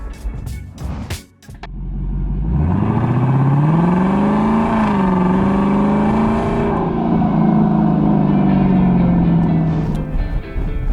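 A Lexus LC500 convertible's naturally aspirated 5.0L V8 roars up through a long, loud, rising then steady rev, heard close from the car after a few brief knocks, holding strong to the end.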